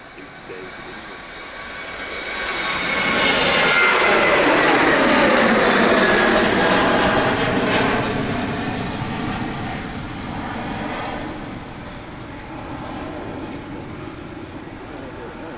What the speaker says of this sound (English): Ryanair on its way to Valencia.